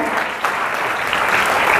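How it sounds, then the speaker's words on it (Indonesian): Congregation applauding in a church, a dense, steady wash of many hands clapping at close range, continuous and loud throughout with no break. "Tepuk tangan yang meriah bagi Tuhan"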